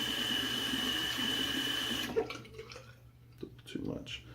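Water runs into a shaving lather bowl in a steady stream that cuts off, followed by a few faint, scattered drips in a quiet room.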